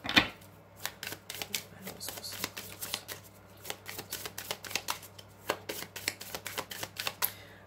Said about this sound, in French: J'ai une carte, hop, une carte qui se retourne.